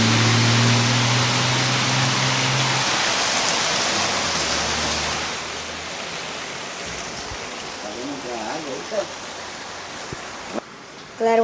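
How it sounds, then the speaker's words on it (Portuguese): Heavy rain pours onto a flooded street with a loud, dense roar of water. It eases to a softer wash partway through, and a voice speaks briefly near the end. "Olha que chuva, galera!"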